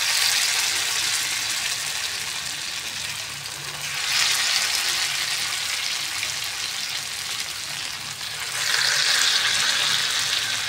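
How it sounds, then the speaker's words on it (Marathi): Flat potato bhaji fritters for a fasting dish frying in hot oil, a loud, continuous close sizzle that swells in two bursts as more pieces are dropped in, with no voices. "आता आपण याच्यामध्ये भजी सोडून घेऊया."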